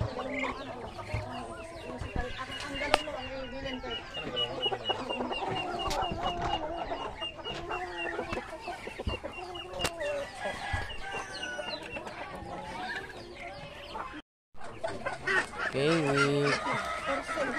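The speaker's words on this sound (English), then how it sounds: "This is the rooster." On a Muscovy duck farm, a rooster and other fowl cluck and call continuously at moderate distance, with honking goose-like calls mixed into the busy barnyard chatter.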